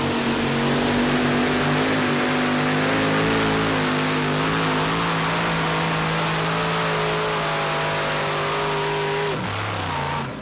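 A four-engine super modified tractor roars at a tractor pull in Fairfield, Illinois, pulling a sled with a loud, sustained engine drone whose pitch holds and then drops near the end.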